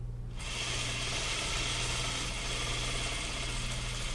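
A sewing machine stitches a sleeve hem along the throat-plate guide, its fast steady mechanical whirr and needle clatter starting abruptly and running continuously up close, with no talk over it.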